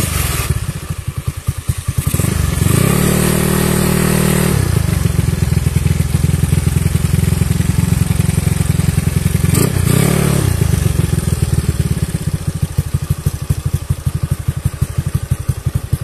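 Honda Beat carbureted scooter with a 130cc bore-up engine running up close, loud steady idle with a brief rev near the start and a clattery, buzzing tone that holds throughout.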